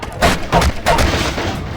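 Gunfire in Half-Life 2 cracks out in three or four loud, close shots, each a short booming burst with a brief decay.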